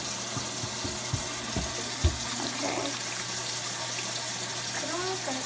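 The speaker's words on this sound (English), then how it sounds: "I'm gonna wash my hands." Tap water runs into a sink for hand washing, a steady close hiss with a few small knocks and splashes and some faint background voices.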